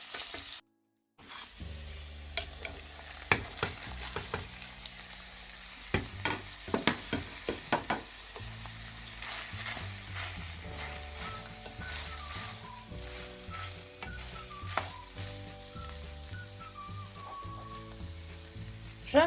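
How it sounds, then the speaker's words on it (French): Garlic, ginger, tomato paste and chopped vegetables fry and get stirred in a pan, with a steady close sizzle broken by repeated scraping stirs over a soft melodic background. "Je vais tourner un peu et rajouter les légumes que j'ai découpés entre-temps."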